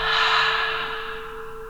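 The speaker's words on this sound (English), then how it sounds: "Let's do this 2 more times. Inhale. Exhale. Inhale. Exhale." A deep breath during yoga practice, a long, loud, airy exhale close up that gradually softens over under two seconds, with a faint steady tone beneath.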